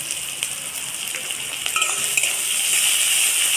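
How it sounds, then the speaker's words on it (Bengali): Chopped onion with chopped green chilli frying in a pan for a rohu fish chop, giving a steady, close hiss that swells a little toward the end, with a few light clinks of a utensil. "পেঁয়াজটাকে একটু ভেজে নেবো"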